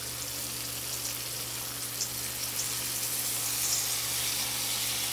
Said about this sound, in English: I'm going to go ahead and add some white wine, y'all